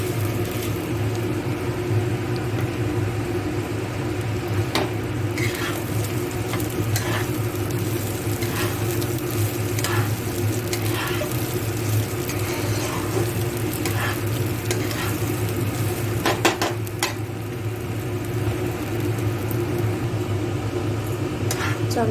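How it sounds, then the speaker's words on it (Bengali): Rice fries in hot oil in a pan for Basanti pulao, giving a steady, close sizzle broken by occasional scrapes and clicks as it is stirred. "চালটা একটু ভেজে নেব।"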